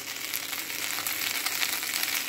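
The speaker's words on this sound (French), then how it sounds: "Alors on laisse mijoter un petit peu là" Food simmers and sizzles in a pan with a dense, continuous crackling hiss that holds evenly throughout, close and fairly loud, with no talking.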